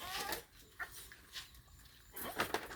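A puppy whimpers in short, high, thin cries spaced across a quiet, faint background, with a few louder yelps near the end.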